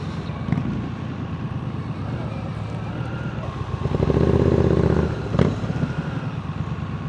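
Triumph Speed Triple 1200 RS motorcycle riding through a busy town, its engine a steady low rumble with wind noise, swelling louder for a second or two near the end.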